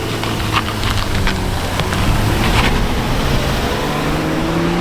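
A car spinning in rings on open ground in Ireland, a continuous loud engine drone with shifting pitch and bursts of tire scrub, close and unbroken, with no talking.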